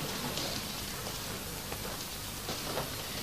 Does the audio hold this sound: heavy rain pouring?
yes